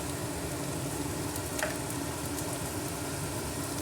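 Green chillies and turmeric sizzle in hot oil on a stove turned up high, a steady, dense frying hiss that holds level throughout with no voices over it.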